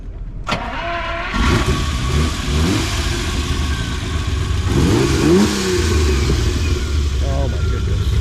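A 1967 Ferrari 330 GTS with a V12 engine cranks and fires up at an outdoor car show, then idles loudly and revs in repeated rising blips, close and dominant throughout.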